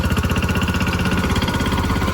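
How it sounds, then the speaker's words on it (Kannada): An Apollo 1502 15 HP tractor engine runs while reversing along a 4-foot sugarcane row, giving a steady, loud, close chugging drone with a fast regular pulse throughout. "Apollo 1502 15 HP tractor"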